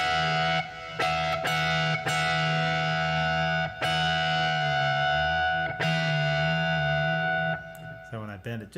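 An electric guitar played through a fuzz effect sustains distorted double-stop notes that produce difference tones, ringing in buzzy held chords broken by brief pauses and re-picks, with a few quick notes near the end.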